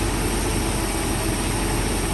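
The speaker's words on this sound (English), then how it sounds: "Here's your engine." A Mercedes 500SL engine under repair idles steadily, a constant low rumbling hum with even vibration, close and unchanging across the short stretch, no voices over it.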